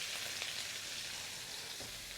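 Onions frying in soybean oil give a faint, steady sizzle with soft crackles, continuous and without talking.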